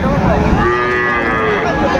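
A Sahiwal bull calf at a Raniganj cattle market gives one long, loud, close moo that lasts the whole moment, with no talking over it.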